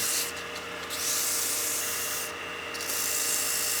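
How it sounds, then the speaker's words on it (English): Sandpaper rubs lightly over the notch of a wooden whistle on a lathe, a steady hissing scrape that swells and eases in long strokes over a constant machine hum, without any talking. "So I'm just lightly sanding where the notch is cut."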